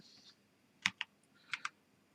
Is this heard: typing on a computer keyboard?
yes